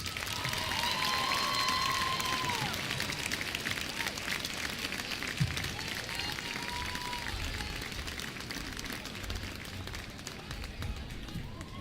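An audience applauds a state championship high school cheer team in a gym, sustained clapping and crowd noise filling the space with a few whistles drifting over the top.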